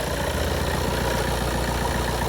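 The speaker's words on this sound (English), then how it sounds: "So let me turn on the engine. Okay, engine is on" Vehicle engine idling with a DC-DC charger working at 40 amps, a steady, loud, low rumble with even pulsing that stays constant throughout.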